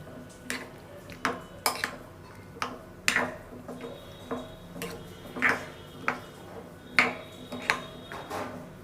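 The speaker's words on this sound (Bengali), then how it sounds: "এবার এগুলোকে আমি ভালোভাবে ডিমের সাথে মেখে নেব।" Utensil clinking and scraping in a bowl as fried potato and chopped onion are mixed into eggs for a Spanish potato omelette, with repeated irregular taps and clinks at close range.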